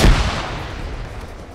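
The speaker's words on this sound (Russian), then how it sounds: "Кинул гранату." A single grenade explosion in the military shooter ArmA 3 lands as one sharp, heavy boom that fades into a short rumbling tail, with no talk over it.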